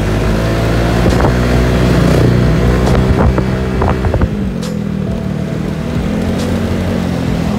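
Low, steady drone of a Honda Vario 150 scooter ridden gently at light throttle, its engine hum mixed with wind buffeting the microphone and a few faint clicks, with no talk.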